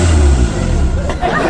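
Car engine running loud and close after being started, a heavy low rumble that dips and then rises again as it revs, with people talking in the background.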